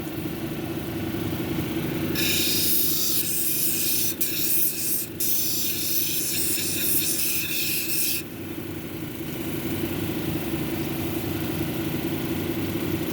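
A dumortierite cabochon is ground on a 280 grit wheel, a harsh bright rasping hiss that bursts in for about six seconds over a steady motor hum, with a brief break midway, then stops and leaves the hum running.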